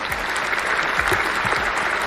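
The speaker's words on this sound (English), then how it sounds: "Round of applause for that." An audience claps in a steady, moderately loud round of applause, even and unbroken through its short span, with a few low thumps beneath it.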